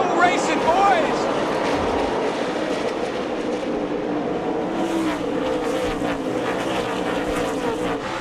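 A pack of NASCAR race cars roaring away at the start of a race at Bristol, a dense, loud, sustained engine roar with whining pitch sweeps, under an excited commentator.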